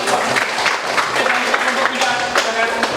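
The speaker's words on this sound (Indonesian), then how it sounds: "Oke, tepuk tangan." Small-group applause after a classroom group presentation during a teacher training assessment, moderate uneven clapping with voices talking over it throughout.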